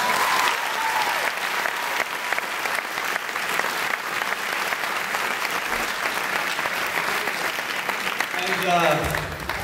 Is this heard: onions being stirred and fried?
no